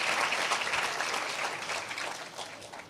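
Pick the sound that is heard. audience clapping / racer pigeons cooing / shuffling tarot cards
audience clapping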